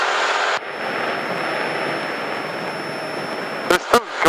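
A small Grumman airplane's engine drones steadily in flight along the Malibu coast during a lesson, a broad continuous roar with brief bursts of cockpit noise near the end.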